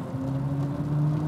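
The BMW iX3 electric SUV plays a steady, synthetic hum in sport mode, a driving sound composed by Hans Zimmer. It is a low sustained drone with a faint higher tone over it, even and unbroken throughout.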